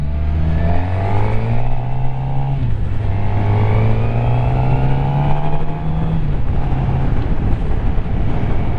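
A 2016 Suzuki GSX-R750 L6 sports motorcycle rides along a road, its engine droning steadily with a pitch that rises and dips through gear changes, loud and close throughout with wind rush behind it.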